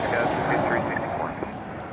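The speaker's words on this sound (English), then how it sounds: "I suspect this plane that's going to fly for 15 hours, or I think maybe 12 to Turkey, is quite heavy." A heavy airliner bound for Turkey at Toronto Pearson airport gives a steady, broad jet roar with a low rumble, fairly loud and easing slightly toward the end.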